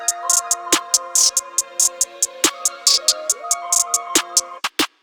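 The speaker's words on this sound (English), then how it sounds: "And then the next part was this clap." A basic clap sample in an FL Studio rap and R&B beat snaps on a steady backbeat over a ticking hi-hat pattern and a soft looping melody, every hit crisp and close.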